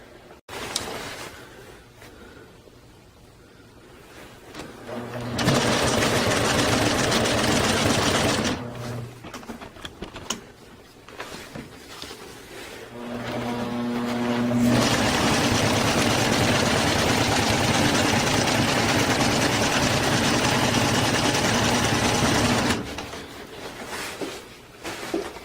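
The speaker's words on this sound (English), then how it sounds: "we'll start sewing here in a minute and get it going" A sewing machine stitches a long seam on a camping tarp in two sustained runs, the first about three seconds long and the second about eight, with quieter pauses of handling between them.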